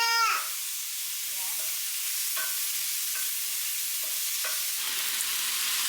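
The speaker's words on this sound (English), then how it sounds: "tonight I am just sauteing some veggies. I've got white onion, red pepper, and mushroom" Sliced white onion, red pepper and mushroom sizzle in a hot pan at home, a steady soft frying hiss with a few brief clinks and scrapes of a utensil and no talking.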